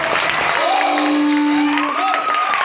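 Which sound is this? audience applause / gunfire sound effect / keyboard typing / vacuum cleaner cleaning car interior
audience applause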